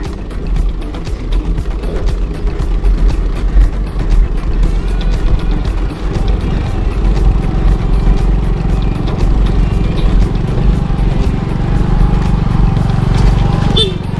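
A motorcycle rides along on the Sambong trail ride, its engine a steady low rumble throughout with wind buffeting and rattling close to the rider, and faint voices now and then.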